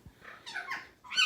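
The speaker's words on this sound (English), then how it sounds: "He is a Quaker or a monk parakeet." A Quaker parrot, or monk parakeet, gives a few short, squeaky chirping calls, close and moderately quiet.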